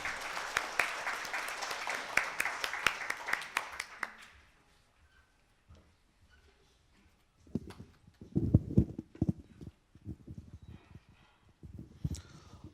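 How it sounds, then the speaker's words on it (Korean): Audience applause at a private startup meetup, a dense burst of clapping for about four seconds that fades out, followed by scattered thumps and handling noises. "큰 박수 부탁드리겠습니다."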